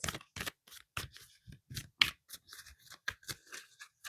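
Tarot and oracle cards being handled and drawn, a close series of crisp riffling and slapping shuffles in quick irregular bursts.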